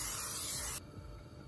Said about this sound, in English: just spray your pan down with some nonstick spray.